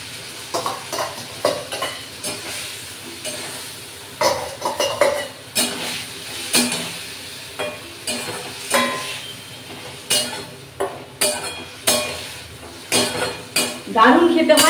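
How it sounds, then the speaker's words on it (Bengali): Prawn stock and chopped vegetables go into a pan, then a utensil scrapes and stirs in steady repeated strokes with metal clinks over a soft sizzle, mostly alone with little talk. "স্টকটা দিলাম, সঙ্গে এই যে সবজিটা আছে সেটাও দিয়ে দিই।"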